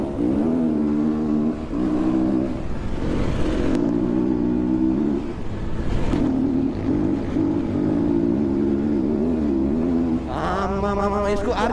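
Motorcycle engine revving while riding on a dusty road, a close, loud, continuous drone that rises and falls with the throttle, climbing in pitch near the end, no talking.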